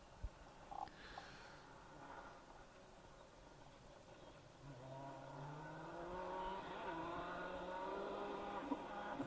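A 2.3 litre VXR Sunbeam rally car on a stage: at first a faint distant engine, then it grows louder as the car approaches, climbing through the gears with rising revs and holding a strong, rasping note near the end.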